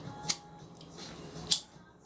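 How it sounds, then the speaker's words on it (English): Scissors snip off excess zipper tape while sewing a backpack, two crisp separate cuts about a second apart, close and clear over quiet room noise. "Let me trim this extra piece of zipper."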